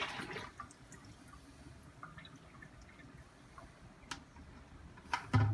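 Water from a rinsed bucket used in a barley fodder system pours and splashes out in a brief trickle, followed by faint drips and a final louder splash near the end.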